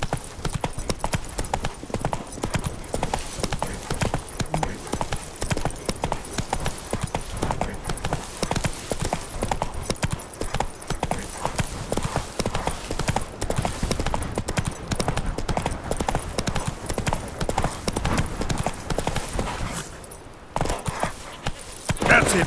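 Galloping horse hooves in the Witcher 3 video game, a rapid steady clip-clop that runs for the whole stretch alongside game ambience, pausing briefly near the end.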